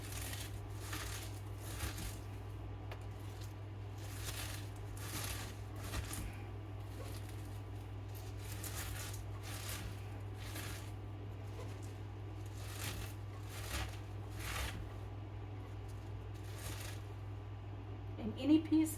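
Hands squeezing and massaging chopped cabbage in a bowl to make sauerkraut, giving a steady run of soft wet squishing and crunching pulses with a constant low hum beneath, close and fairly quiet, with a louder handling noise at the very end.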